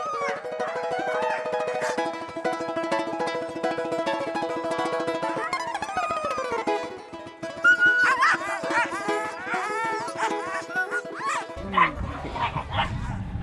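A pack of puppies living together as a family in the Russian far east, yipping, whimpering and barking in busy overlapping bursts, close and continuous, with some harmonic whining cries.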